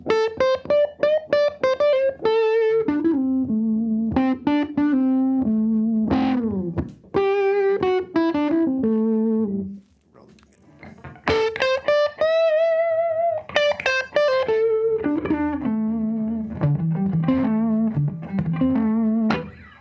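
An electric guitar plays melodic lines with a thick, distorted, effected tone, sustained notes ringing loudly with a short quiet gap midway.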